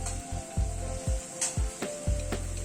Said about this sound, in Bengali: পেঁয়াজের সাথে রসুন আর কাঁচা লঙ্কাটাকে একটু হালকা করে ভেজে নিচ্ছি।